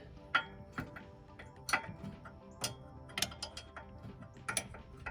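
A 9/16 wrench turns a bolt in a tight space, producing close, irregular metallic ticks and clicks spread through the clip.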